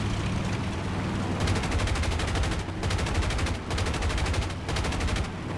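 Rapid, heavy-caliber automatic cannon fire from an aircraft in War Thunder, several sustained bursts with short pauses, loud and close, rattling over a constant engine drone.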